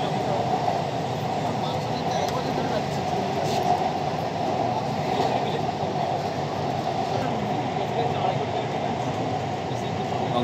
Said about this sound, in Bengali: আমাদের মেট্রো এখন গঙ্গার তলা দিয়ে যাচ্ছে